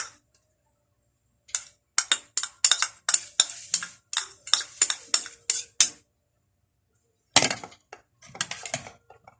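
A utensil stirring garlic in a pan: a string of sharp clinks and scrapes in quick bursts, then a pause and a second shorter flurry, close and fairly quiet with nothing else around.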